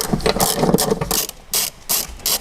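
A ratchet wrench backing out 10 mm radiator bolts on a Mitsubishi L200, rapid clicking bursts close up, broken by short pauses, with no talking.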